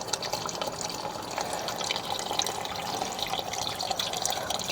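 Wastewater pouring and trickling through an old sewer line clogged with grease and gunk, a steady close gurgling rush of water that runs continuously without pause.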